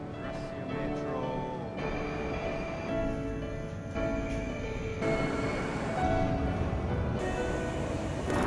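A Moscow metro train rumbles through the underground, a steady, moderately loud roll of wheels and carriage noise with shifting tones. Faint voices can be heard in the station or carriage.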